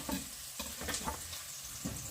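Onions frying in a pan for a vegetable spread made from leftover garden produce, a steady close sizzle with occasional stirring scrapes throughout, no talking.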